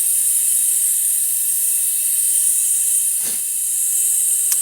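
Airbrush spraying black paint during a skull design on a saddlebag, a continuous, close, steady hiss of air and paint with no breaks.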